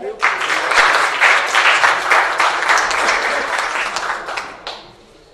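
Audience applause at an entrepreneurship panel event, a loud, dense burst of clapping that holds steady for several seconds and then cuts off abruptly, leaving a faint tail.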